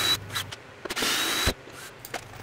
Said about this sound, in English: Decided to clamp the bottom rows with this piece of strapping and just screwing it into the bottom plywood plate